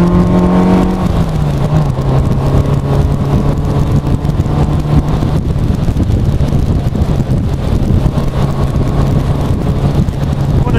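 Lotus Elan Sprint driving on an open road, engine exhaust droning loud and close throughout with a low steady tone that drops in pitch early on, amid heavy wind buffeting, no talking.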